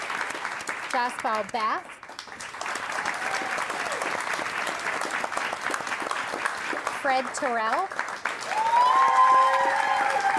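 A live cooking show audience applauds the chefs, sustained dense clapping through the whole stretch while a presenter reads out names over it, swelling louder near the end.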